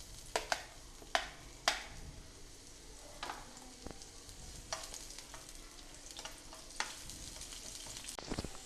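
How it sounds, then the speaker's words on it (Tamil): Onions and tomatoes frying in oil for a Tamil-style chicken gravy, a steady low sizzle broken by sharp spatula clinks and scrapes, heaviest at the start and again near the end. "இப்போது வெங்காயம் நல்லா வதங்கிடுச்சு."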